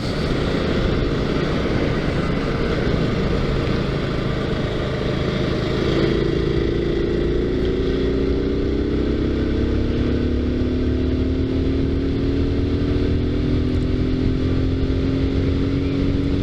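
A 2019 Kawasaki Z125 motorcycle engine running up close, a loud, continuous rumble under heavy wind rush, with the revs rising steadily about halfway through.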